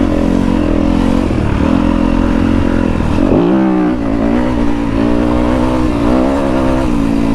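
A 2023 Kove FSE 450 R rally motorcycle runs loud and close. Its single-cylinder engine drones steadily, dipping briefly as the throttle eases off, then climbing and holding again.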